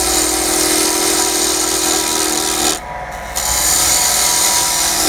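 Steady, rasping scrape of a lathe tool cutting a spinning wooden tenon on an ice cream scoop handle, loud and continuous with a brief dip in intensity midway, no talk.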